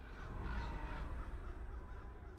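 A raven caws in Life is Strange: Before the Storm, faint and distant calls sitting in a dense, rumbling low background.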